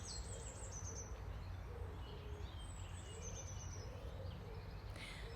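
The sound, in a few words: birds singing outdoors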